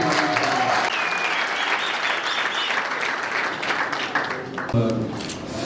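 An audience applauds at a political rally, sustained dense clapping and crowd noise from many hands, steady and loud, with a voice speaking faintly beneath it.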